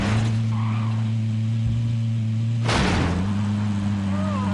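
Steady low engine drone from a vehicle being driven in Modern Warfare, holding an even hum throughout with a brief noisy burst midway, as if hitting something or skidding.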